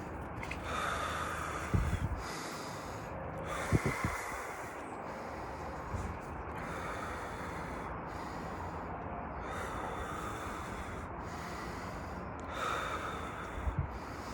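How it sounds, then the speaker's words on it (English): Deep breathing exercise: a series of loud, rhythmic breaths, with strong snort-like inhales recurring roughly every two seconds over a steady background, with no talking. "Let's just do second breathing."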